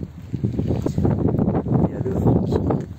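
Gusty wind buffets and roars across the microphone in a continuous, uneven rush, loud and close.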